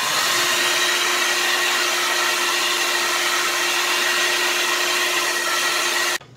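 A hair dryer blows hot air at close range onto a flat-screen TV screen, a constant broadband whoosh with a faint whine, cutting off abruptly at the end.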